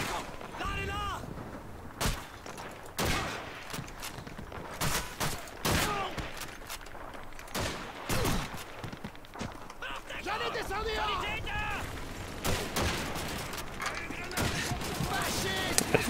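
Gunfire in the World War II shooter Call of Duty 2, sharp bursts and single shots scattered through a busy battle mix, with someone talking over much of it.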